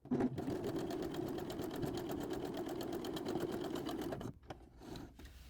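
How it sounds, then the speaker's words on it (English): A sewing machine joins quilt strips in a fast, steady mechanical whir with rhythmic needle ticking for about four seconds, then stops, followed by a brief quieter stitching burst. "So there's lots of pressing seams and then sewing strips together."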